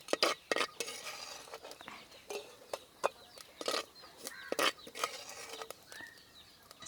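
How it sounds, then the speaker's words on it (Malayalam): A spoon scoops roasted grated coconut out of a frying pan, producing a series of sharp, close metallic scrapes and clinks at irregular intervals, with quiet gaps between them. "ഈ കളറിൽ നമുക്ക് കോരി ഇങ്ങോട്ട് എടുക്കാം."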